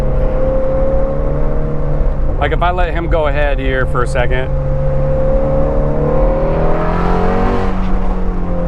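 A Ford Mustang Shelby GT350R engine drones steadily in second gear at moderate revs, a loud, close, continuous hum while the driver talks briefly over it midway.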